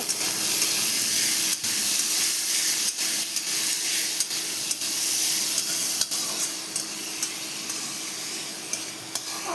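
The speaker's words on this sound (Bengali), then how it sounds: "আর আদা দিয়ে দেবো। আর এটা লাল করে ভেজে নেব।" Onions and ginger fry in a pan, cooking until reddish-brown for a taro stalk (kochu data) dish, giving a steady close sizzling hiss broken by a few sharp stirring clicks and scrapes.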